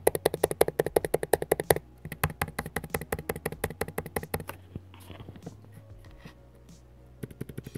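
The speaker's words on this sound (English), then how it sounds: "the keyboard is much louder than the older 2015 Retina version" Keys clatter rapidly on a 2017 MacBook Pro laptop keyboard, a fast run of sharp, loud clicks that thins into sparser, softer taps before a few final presses.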